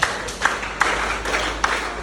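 Students at a school exam-preparation workshop clap in a brief, sparse burst of a few scattered hand claps, moderately close in a room with steady background hum.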